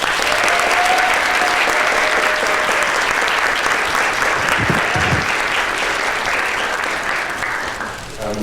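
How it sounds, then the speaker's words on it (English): Sustained applause from a lecture audience welcoming Professor Bowie at a last-lecture event, steady and dense throughout before tapering slightly at the end. "can you please join me in one last round of applause for Professor Bowie"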